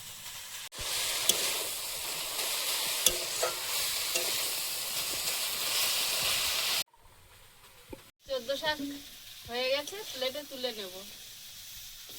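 Leafy greens (shak) frying in a pan: a loud, broad sizzling hiss runs steadily for several seconds with faint scraping from stirring, then cuts off, after which a person talks.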